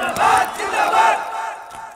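A large gathering at an outdoor Islamic sermon shouts the takbir in unison, two loud, swelling collective cries close together, the second trailing off into fading crowd murmur.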